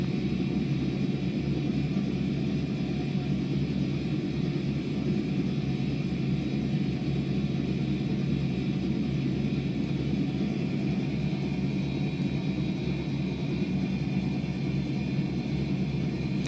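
A Robinson R44 helicopter takes off in Microsoft Flight Simulator 2020, its engine and rotor producing a constant, dense droning rumble that stays level throughout with no voices.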